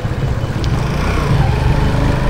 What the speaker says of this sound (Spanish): No corre más la motito.